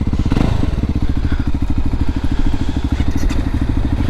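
A Voge 300 Rally or Honda CRF 300 Rally motorcycle engine, started after flipping the kill switch, settles into a loud, close, steady single-cylinder idle chug with a few clattery thumps.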